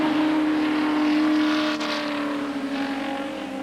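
Touring race cars at Oulton Park in the 1987 British Touring Car Championship, including a Rover, roar past in a steady loud engine drone with a sustained pitch, easing slightly after a brief dip midway.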